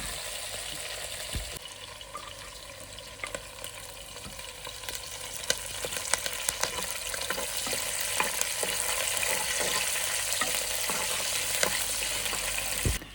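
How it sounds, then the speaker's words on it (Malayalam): Curry leaves and shallots frying in hot oil for a Kerala style fish curry, a steady close sizzle with crackles and occasional stirring clicks, growing slightly louder toward the end. "അതിലേക്ക് നമുക്ക് കറിവേപ്പില ഇടാം."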